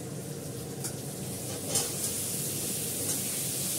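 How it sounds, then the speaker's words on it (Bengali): Potatoes drop into hot oil in a frying pan, setting off a loud, continuous close-up sizzle that swells a little as they settle. "এবার আমি আলুটা দিয়ে দেবো।"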